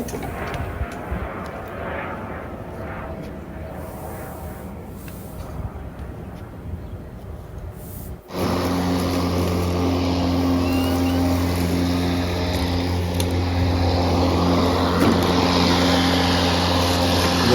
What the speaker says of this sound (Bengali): ঘাস কাটছে মেশিন দিয়ে